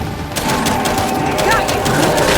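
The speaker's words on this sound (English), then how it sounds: "Incoming frag!" Gears of War 5 combat: a dense burst of automatic gunfire and rapid crackling shots, loud and continuous, with explosive impacts mixed in.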